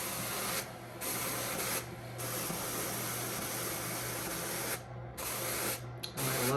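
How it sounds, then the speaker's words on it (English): A wool batt being carded on a Clemes & Clemes crankless drum carder with a packer brush: a steady, close brushing hiss that runs on, broken by a few short pauses. "I'm using my packer brush. I'm just gonna get this first, coating on the drum carder down here."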